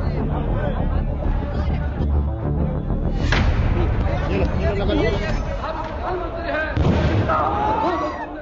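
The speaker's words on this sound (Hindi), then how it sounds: "ये बम विस्फोट है।" Bomb blast in Patna's Gandhi Maidan amid a crowded outdoor scene: loud crowd hubbub throughout, with sharp bursts near the middle and again later, people shouting and talking over the din.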